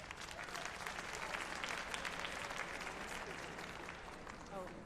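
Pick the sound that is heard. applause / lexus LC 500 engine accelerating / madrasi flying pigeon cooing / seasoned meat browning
applause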